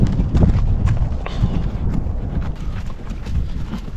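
A Persian Mustang horse at a desert hunting camp clip-clops with uneven hoof thuds over four seconds, close and fairly loud, with wind buffeting the microphone.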